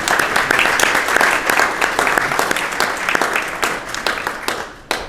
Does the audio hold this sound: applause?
yes